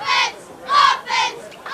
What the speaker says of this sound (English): A very loud Andrickson Rivas cheering section today.